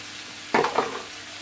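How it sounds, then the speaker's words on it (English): Celery drops into hot oil in a pressure cooker pot for a stew, setting off a sudden burst of sizzling with a quick stir that fades back into a quieter, steady fry. "So I'm now going to add the celery to that."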